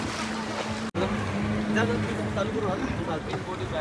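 A boat engine idles and rumbles steadily on the sea at a beach water-sports spot, with water and wind noise around it and people talking over it.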